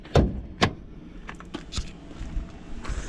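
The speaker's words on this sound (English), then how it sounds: "In right-hand drive Jaguars, the bonnet releaser is on the passenger side, so give that a tug." A Jaguar F-Type bonnet release is tugged, giving a couple of sharp close clunks, followed by softer clicks and rustles as the bonnet pops open, no talking.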